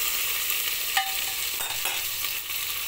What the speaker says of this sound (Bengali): পেঁয়াজটা একটু সুন্দর করে ভেজে নেব।